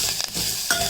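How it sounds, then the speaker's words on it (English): Finely chopped raw mangoes frying in a pan, a steady close hiss of sizzling oil broken by a couple of quick stirring scrapes. "now time to add the raw mangoes, finely chopped raw mangoes. Fry for 1 or 2 minutes."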